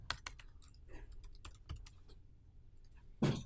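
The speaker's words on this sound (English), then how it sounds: "I am typing IP for some reason." Typing on a computer keyboard, scattered bursts of soft close key clicks with short pauses between them, ending in a louder clatter.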